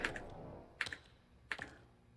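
Keys clack on a computer keyboard while playing Dead Letter Dpt, three separate clusters of two or three quick, crisp presses with short pauses between them.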